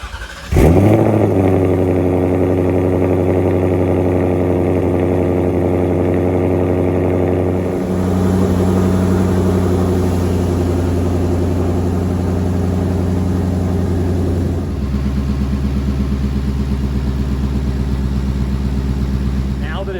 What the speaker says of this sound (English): Check everything, and then let's go for that first start.